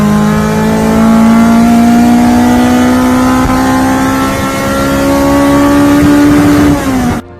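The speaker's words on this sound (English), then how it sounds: "The engine was built with a cast iron block to make it strong" A Toyota AE86 four-cylinder engine revs hard and climbs steadily toward its 7,800 RPM redline, a loud, continuous rising tone held for several seconds before dropping off sharply at the end.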